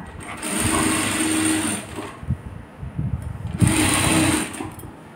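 A sewing machine stitches piping onto a blouse in two loud, steady whirring bursts separated by a short pause.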